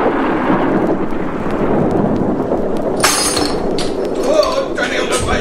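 A thunderclap from the animated Tintin film L'affaire Tournesol rumbles loud and sustained, followed by several sharp, bright crashes.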